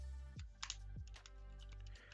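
Typing on an SK61 keyboard, with scattered close clicks and clacks of keys and faint tonal hum behind them.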